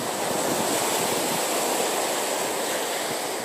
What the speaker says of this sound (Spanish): Escucho las olas del mar